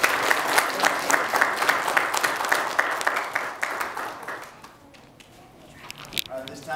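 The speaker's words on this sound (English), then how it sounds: "let's give a round of applause for all of us." Applause from a church or community gathering rises as a full round of clapping, then thins and dies away, leaving scattered claps and quiet room noise.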